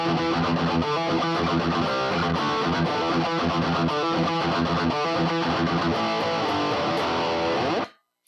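Heavy high-gain electric guitar churns through a fast palm-muted riff, saturated and loud, before stopping suddenly.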